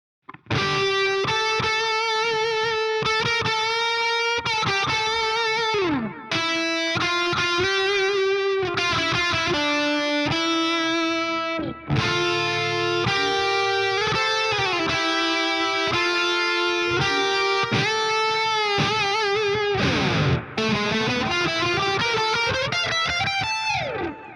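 Marshall JCM 900 guitar amp on channel B, in drop D with delay and reverb, plays a distorted electric guitar riff of chugging low chords and ringing sustained notes, loud and steady with brief pauses.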